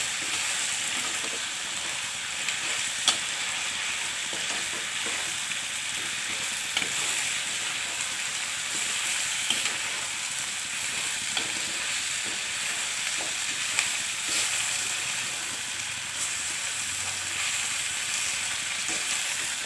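Potatoes fry and get stirred into a home-cooked chicken curry, giving a continuous, even sizzle up close with occasional soft clicks and scrapes of a utensil, and no talking.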